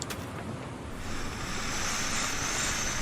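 A sharp gust of wind sweeps over the sea in a video game, a broad rushing hiss over surf-like noise that swells and holds steady, with no voices.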